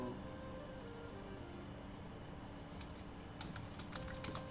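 Quiet, steady tapping on a computer keyboard while writing code, with a denser flurry of keystrokes near the end, no voices.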